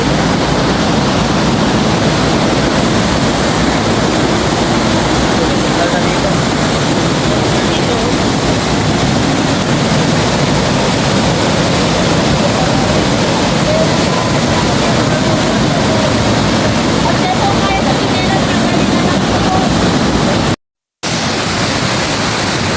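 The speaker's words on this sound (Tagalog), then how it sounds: "Napakadami namang falls dito." Loud, steady broadband roar of rushing water from the many falls at a busy tourist spot, near and constant throughout, with voices faintly mixed in.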